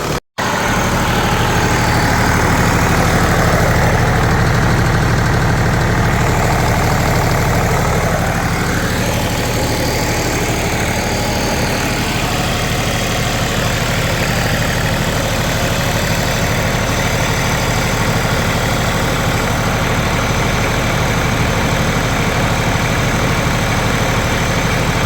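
A Lister Petter Alpha LPA3 7kVA diesel generator runs steadily and loudly, with a constant low engine drone and mechanical clatter throughout, alone with no voices.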